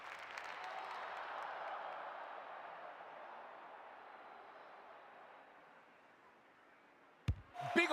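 Crowd applause at an AFLW football match, a broad wash of clapping and cheering that swells early then slowly fades, followed by a brief sharp knock near the end.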